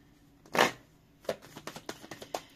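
Tarot cards being shuffled for a reading, with one long riffle burst followed by a run of quick, crisp card slaps and flicks, close and clear with no voices.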